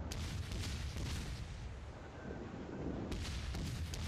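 Naval artillery salvos from warships in World of Warships, heavy booms rolling one after another over a constant low rumble, loud and close, with no talk.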